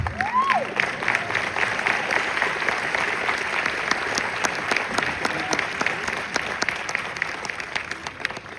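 A crowd applauds steadily and loudly throughout at a film premiere in Los Angeles, dense clapping with no pauses and a few faint cheers mixed in.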